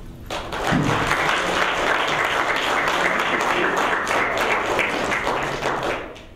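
An audience at an academic lecture applauds to welcome the speaker, sustained dense clapping that swells in, holds steady for several seconds and fades at the end.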